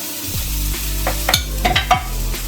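Chicken sausages fry in hot oil while being stirred, a steady close sizzle broken by several sharp scraping and clattering strokes of the utensil against the pan.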